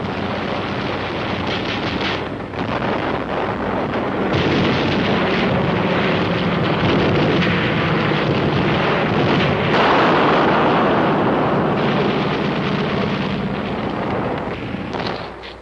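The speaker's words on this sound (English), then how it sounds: "And Marine air with rockets and napalm to burn them out." Korean War combat with Marine aircraft firing rockets and dropping napalm, a dense, loud and continuous roar of blasts and rumbling explosions that runs for the whole stretch with no voices.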